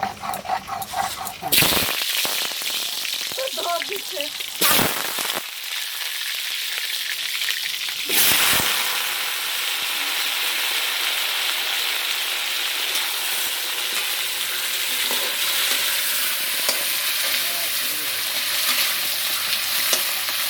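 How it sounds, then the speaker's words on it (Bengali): Steady, dense sizzling of potatoes frying in hot oil, close and continuous, with a few brief sharp clatters near the start and faint talk underneath. "এখন আমি তেল দিয়ে আলুগুলোকে ভেজে নেব"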